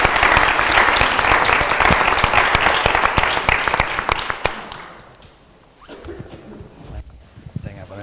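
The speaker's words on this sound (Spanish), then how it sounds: "Solo pediros un aplauso para ellos" A live audience at a small talks event breaks into loud, close applause that thins out after about four seconds, leaving scattered claps and murmuring voices.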